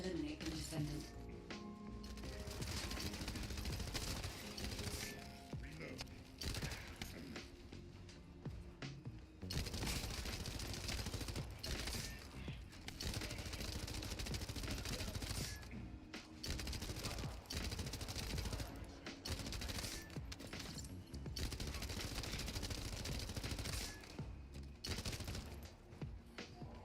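Rapid LMG bursts in a sci-fi shooter video game rattle in dense, repeated volleys with brief pauses, mixed with game effects under ongoing talk.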